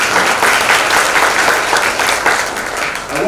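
A loud, continuous round of audience applause fills the hall at the opening of a biodiversity talk series in Guyana, with dense steady clapping throughout.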